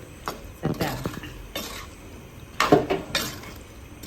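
Food in a pot is stirred and mixed with a spoon, giving several uneven scraping and clattering bursts of utensil against metal, with brief breathy sounds between.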